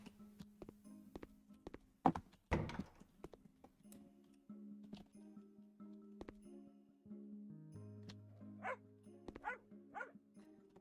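A dog in the video game House Flipper barks a few times, with soft game clicks and ticking around it and low background tones, moderately faint.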